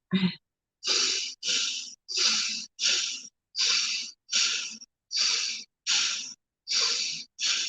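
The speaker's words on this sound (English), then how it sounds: "you're just going to inhale, exhale like we were sniffing" A person takes about ten short, sharp sniffing breaths in a steady rhythm, each a quick hissing burst separated by brief pauses.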